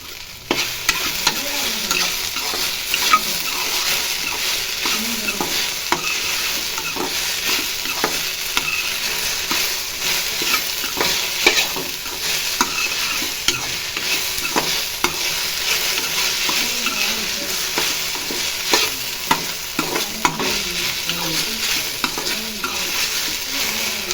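Okra poriyal frying in a pan and being stirred, a steady close sizzle with frequent scraping strokes of a spoon running throughout, fairly loud and continuous, with no talking.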